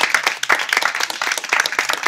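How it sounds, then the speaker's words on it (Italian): A crowd at an in-store entertainment show claps for performers, a dense, steady patter of hands lasting about two seconds over faint background music. "fategli un grandissimo applauso"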